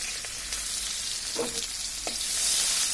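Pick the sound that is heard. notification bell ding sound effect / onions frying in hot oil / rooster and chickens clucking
onions frying in hot oil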